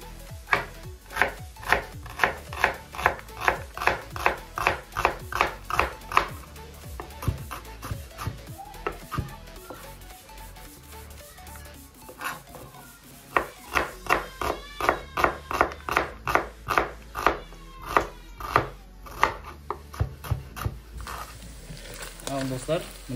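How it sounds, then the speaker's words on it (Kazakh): A knife slices onion into half rings on a cutting board, with close, steady rhythmic chops in two long runs separated by a short pause, and a voice talking faintly at times. "Пиязымызды полукольца қылып тураймыз."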